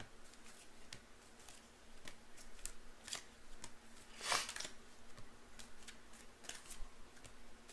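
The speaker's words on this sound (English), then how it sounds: "I'll pull cards on that." Tarot cards are shuffled and pulled in a quiet room: soft irregular riffling and slapping, with one louder crisp flurry midway, close and alone without talk.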